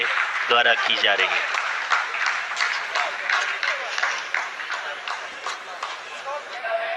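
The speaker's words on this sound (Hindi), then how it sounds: "आप इस तालियों के गड़गड़ाहट को सुन सकते हैं" Scientists in a control room during the Chandrayaan moon landing applaud, a sustained roar of clapping that fills the background while a commentator speaks over it.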